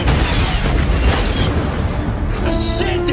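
Naval weapons fire and explosions in the 2012 film Battleship, a loud, dense roar of blasts and booming impacts filling the whole stretch, with a rumbling tail of debris and noise toward the end.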